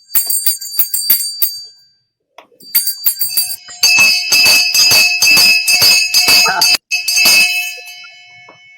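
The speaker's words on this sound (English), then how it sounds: "I have the bell out, I ring it too." A hand bell rings in repeated bright clanging bursts at a live political gathering, first in a short flurry, then a brief pause, then longer sustained ringing that carries on with only a short gap.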